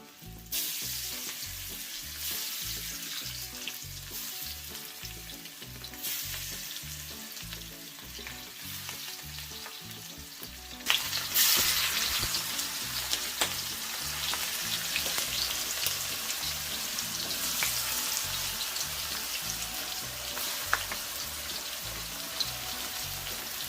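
Shrimp dropping into hot oil flavoured with burnt garlic for a pepper shrimp dish, a steady loud sizzle that jumps louder halfway as more go in, with occasional stirring scrapes and no voices.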